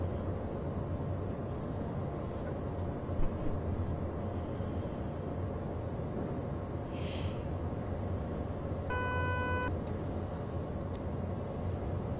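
Train cab vigilance alarm from Train Simulator 2015, on a BR103 TEE run between Cologne and Koblenz, giving a short burst of rapid repeated beeps over steady loud rumbling cab noise, with a brief tone just before it.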